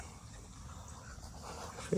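Rabbit hunting dog pups panting outdoors in a wooded field, soft rhythmic breathing under a faint noisy background, with a voice briefly audible near the end.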